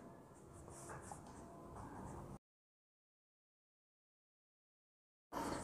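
Pen or marker writing on a board or paper surface during an electromagnetics lecture, a steady scratchy scrawl for about two seconds, then silence before a brief return of the sound at the end.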